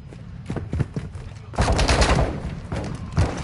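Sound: gunfire in the video game Warzone

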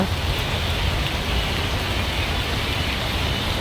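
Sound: heavy rain outside

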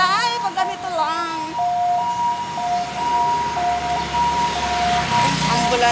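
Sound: ambulance siren passing

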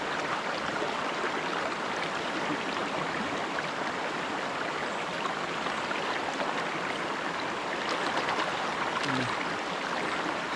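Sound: river water flowing

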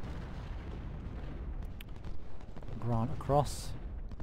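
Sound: artillery guns firing in video game Ultimate General Civil War

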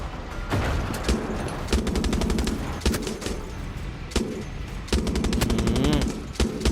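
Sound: machine gun fire in video game Far Cry 6

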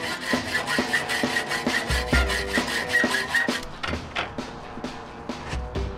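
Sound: hacksaw cutting with Lennox blades

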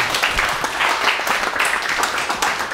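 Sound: applause

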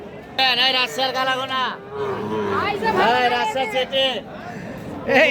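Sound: cattle mooing at market

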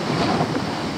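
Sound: sea waves at the beach

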